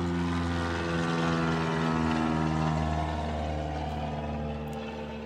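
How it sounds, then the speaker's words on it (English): Propeller airplane passing overhead near a small local airport, a steady droning engine hum with low harmonic bands that holds fairly loud throughout, then slowly fades as it moves away. "airplanes coming by."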